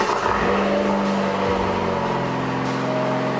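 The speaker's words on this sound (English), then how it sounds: "let's start up the car now" Alfa Romeo Giulia, not the Quadrifoglio version, fired up from a cold start, its engine revving steadily and loud up close with a sustained drone and a brief dip partway through.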